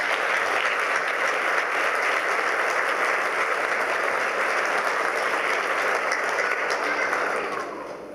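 A charity evening audience claps steadily and densely for about seven seconds before the applause fades out at the end.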